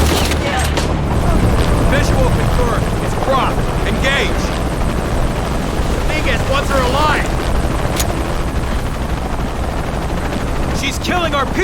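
Helicopter in the video game Shadow of the Tomb Raider, its heavy rotor roar loud and continuous throughout, with game voices and combat noise layered over it.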